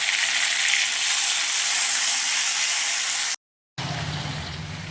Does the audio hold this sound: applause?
no